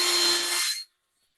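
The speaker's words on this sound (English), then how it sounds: "I'm just going to start a little bit of sanding inside." A short burst of hissing, whirring 180-grit sanding inside a wooden three-cornered bowl, close and steady before cutting off abruptly into silence.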